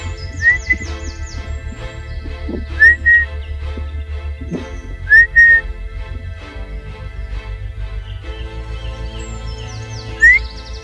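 A person whistles four short, rising two-note calls at spaced intervals toward a brown bear, clear above a low, steady engine hum and faint background noise, in the Gailtal valley, Carinthia.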